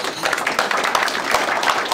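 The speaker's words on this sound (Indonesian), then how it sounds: "Beri tepukan." Clapping from an audience at a welcome gathering for Sabah football players and honoured guests. Dense, steady applause runs throughout, mid-loud, crowd-sized and continuous with no talk over it.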